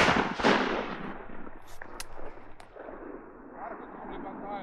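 A shotgun fires once during a morning-flight duck hunt, a loud close blast with a rolling echo that fades into the open outdoor air, followed by faint murmuring voices.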